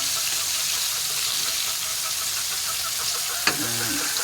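Steady crackling sizzle of partly frozen fish frying in hot oil, continuous and close, with a brief clink near the end.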